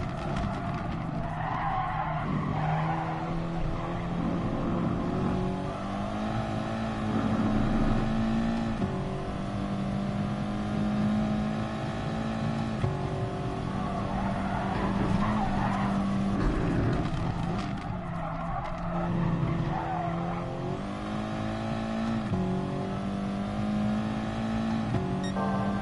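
Group 4 race car in the Gran Turismo Sport racing game, engine droning and shifting through gears for the whole stretch while tires squeal and skid through corners.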